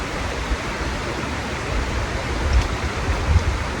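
Steady rushing river water flows close by, a constant broadband wash with a few louder low surges.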